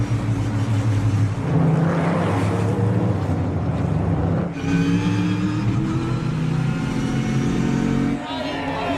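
A NASCAR race car on the Chicago street course crossing the finish under the checkered flag, a loud, sustained engine roar with shifting pitch and a brief dip midway, mixed with crowd noise and commentary.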